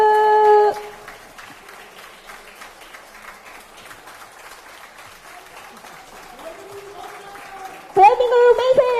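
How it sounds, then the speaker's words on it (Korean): Crowd applause breaks out at a political party rally, a steady wash of clapping under a loud amplified voice at the start and lively cheering and shouting toward the end. "축하의 박수 한 번 부탁드리겠습니다."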